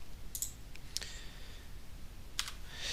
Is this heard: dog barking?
no